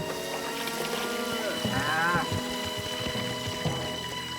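Cattle mooing during a severe drought in an old Zorro adventure, a drawn-out rising low call around the middle over steady background music and ambience, moderately close.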